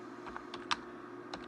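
Someone types on a computer keyboard while entering text in AutoCAD, producing a short run of light, sparse keystrokes that are close and quiet, with no talking.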